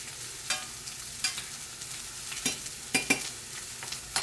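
Steak frying in a pan while being basted with butter, a steady close sizzle broken by repeated sharp spoon clinks and spattering bursts at irregular intervals.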